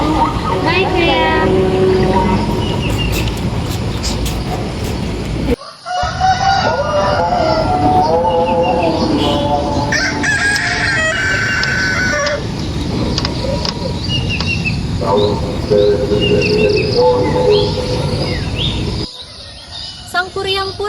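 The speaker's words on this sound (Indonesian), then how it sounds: "ayo kita segera membentangkan kain merah dan membangunkan ayam jago" Rooster crowing during a staged school drama performance, with repeated crows and bird calls layered over music and people talking, the sound cutting out briefly near six and nineteen seconds.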